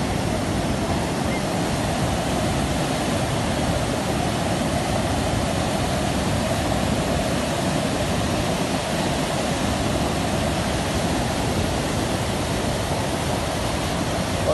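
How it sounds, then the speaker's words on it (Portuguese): Floodwater rushes over an overflowing dam in flood-hit Bahia, a loud, constant roaring wash of water that fills the whole stretch without letting up. "Olha a força da água, ó."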